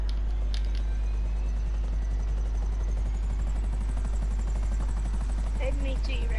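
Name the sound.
Buzzard helicopter in Grand Theft Auto video game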